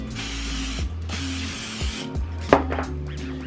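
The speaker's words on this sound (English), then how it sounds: "I'm just gonna lightly spray it far away, probably like 10 inches away, like so." Cooking spray is sprayed onto tilapia fillets before air frying, two long hissing bursts from the can, each about a second, followed by a sharp clack and light handling noise, close by.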